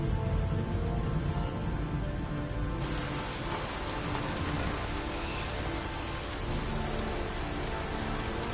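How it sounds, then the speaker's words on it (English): Heavy, pouring rain in the PlayStation 4 game Heavy Rain hisses as a dense, continuous wash that thickens after a few seconds, with faint low rumbles like distant thunder. "Goddamn rain. Hasn't stopped pouring since I arrived."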